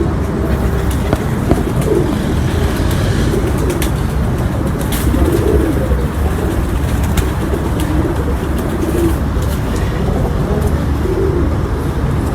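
Soft pigeon coos recur throughout amid a steady, noisy outdoor background in Rawalpindi, with occasional faint wing flutters.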